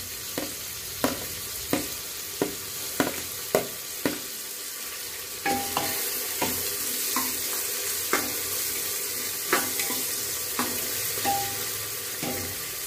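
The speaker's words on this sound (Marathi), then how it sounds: "हिरव्या मिरच्या टाकणार आहोत।" Green chillies sizzle and fry in a pan for Nilanga rice, with a steady hiss beneath repeated sharp scrapes and taps of a spoon stirring at a regular rhythm, close and clear.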